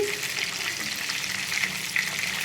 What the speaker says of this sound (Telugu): ఇలా తిప్పుకుంటూ ఫ్రై చేసుకోవాలండి